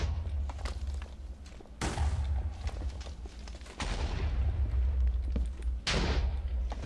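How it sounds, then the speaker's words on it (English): Explosions in the Minecraft Technic modpack echo through a dark underground maze: three heavy, booming blasts about two seconds apart over a constant low rumble. "All I hear is explosions."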